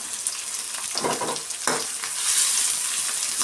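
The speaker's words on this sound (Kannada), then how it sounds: "ಎಲ್ಲ ಆಯಿಲಲ್ಲಿ ಚೆನ್ನಾಗಿ ಫ್ರೈ ಮಾಡ್ಕೊಳ್ಳೋಣ" Sliced onions and curry leaves fry in oil for raw banana palya, a bright hissing sizzle with a couple of louder stirring bursts, close and steady throughout.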